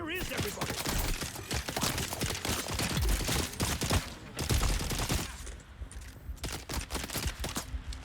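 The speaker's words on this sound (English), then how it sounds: "Shots fired." Rapid gunfire in the video game Dune Awakening, a dense run of sharp cracking shots in quick bursts throughout, fairly faint with voices faintly mixed in.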